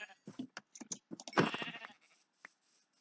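Short bleats from sheep in Minecraft mixed with brief clicks and soft sounds, a louder bleat near the middle, sparse and close.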